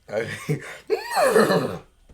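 A man imitates a horse neigh with his voice: a couple of short breathy sounds, then a long, loud, rising and falling whinny that trails off.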